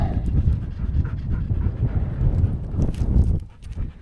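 A dog pants rapidly and steadily up close, quick rhythmic breaths with a bit of wind noise behind.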